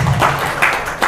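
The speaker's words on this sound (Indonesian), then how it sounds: "Yuk tepuk tangan dulu." An audience at a religious talk applauds together, a short burst of dense hand clapping heard up close and filling the whole moment.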